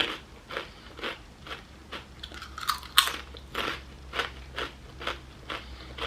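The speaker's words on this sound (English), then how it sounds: "Saw that crunch?" Crisp crunching bites into homemade red skin potato chips, a steady series of sharp crunches and chewing close to the mic, with no talk.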